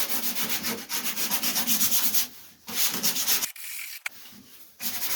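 Coarse P80 sandpaper rubbed by hand over epoxy primer on a Ford Escort MK1 body panel, close and loud, in rhythmic back-and-forth strokes broken by short pauses.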